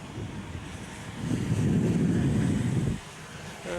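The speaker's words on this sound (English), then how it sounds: "the wind is picking up here, blowing stronger than ever" Strong wind buffeting the microphone at the Lydd kart racing circuit, a brief surging rumble that swells, peaks for a moment and then drops away.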